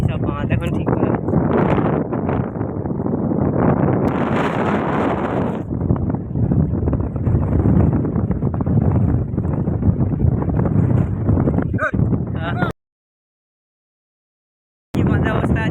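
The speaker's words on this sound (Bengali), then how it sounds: "বড় নদীর কাছে এত হাওয়া, ঢেউ যে মারছে" Fierce wind from Cyclone Remal beside a wide river roars and buffets the microphone in a loud, continuous rumble with rising gusts, then cuts to brief silence before resuming.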